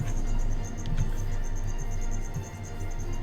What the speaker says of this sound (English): And the crickets will probably start up and be noisy as we go.